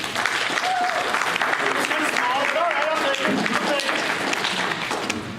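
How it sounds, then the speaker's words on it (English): A conference audience in Lansing claps continuously in a full round of applause, with a person's whoops and a voice rising briefly above the steady crowd noise. "How about a big round of applause for Rick Thompson?"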